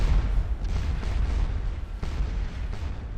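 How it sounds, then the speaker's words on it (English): Artillery cannon fire in the Napoleonic-era battle game Scourge of War Waterloo, a sustained rumbling barrage of low booms that swells and dips over a few seconds, with a couple of sharper reports standing out. "The artillery are going to be doing their musical work on them."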